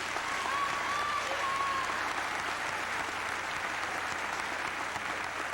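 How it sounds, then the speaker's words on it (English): Steady applause from a school graduation audience honoring the Class of 1993 graduates, a dense continuous patter of clapping held at an even level throughout, with a faint whistle-like tone early on. "Would we give those people a nice round of applause?"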